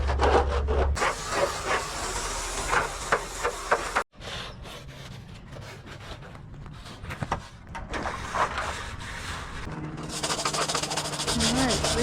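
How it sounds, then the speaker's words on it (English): Rough scraping and rubbing against a dirty commercial flat roof surface being prepared for silicone coating, a continuous gritty rasp with a brief pause, heard close and with some talk in the background. "I'm gonna scrape it and then I'll try to scrub again."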